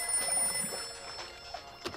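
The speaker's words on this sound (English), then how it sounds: "It's ringing." A telephone rings with a steady electronic tone, heard fairly quietly in the room with no one speaking, and a couple of small knocks near the end.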